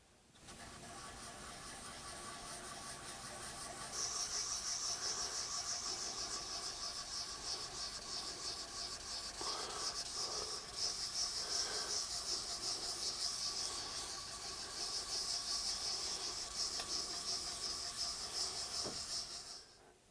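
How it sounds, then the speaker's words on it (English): Sandpaper rubbing across an electric guitar's lacquer finish in a steady, close-up hiss that runs unbroken for about twenty seconds, swelling slightly in places, with no talking. "hopefully you can hear this sandpaper cut. It really cuts very well."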